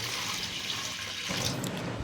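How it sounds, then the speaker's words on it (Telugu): A large glass of water pours into an idli steamer pot, a steady close splashing rush that shifts in tone midway and lasts about two seconds with no talk. "ఇప్పుడు ఇందులో ఒక పెద్ద గ్లాస్ వాటర్ వేసుకోవాలి."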